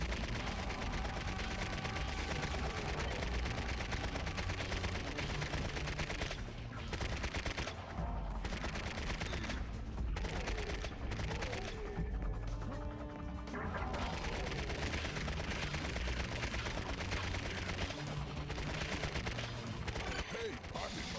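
Rapid bursts of Uzi fire in the GameCube shooter Serious Sam: Next Encounter, dense clattering volleys mixed with crashes and mechanical game effects, loud and nearly continuous.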